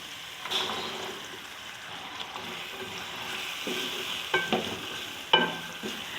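Chickpeas frying with spices and whole green chillies in a pan for a chana pulao, a steady low sizzle broken by a few sharper stirring clatters, heard alone and close.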